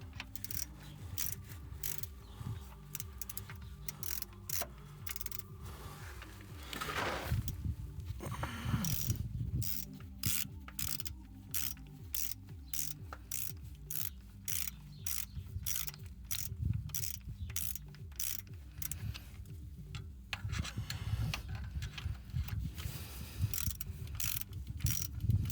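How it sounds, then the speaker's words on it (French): Ratchet wrench clicking rapidly and steadily as bolts are tightened in a cross pattern, the metallic pawl ticks close and continuous for a long stretch with brief pauses and mechanical clatter between runs. "On va dire que je fais un serrage en croix."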